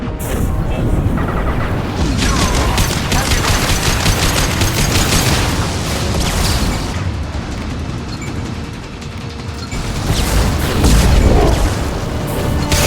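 A heavy weapon fires in the Mass Effect 2 game, delivering continuous loud bursts of gunfire, booms and crashing impacts. The barrage runs nearly the whole time, with dense rattling salvos and a heavier surge toward the end.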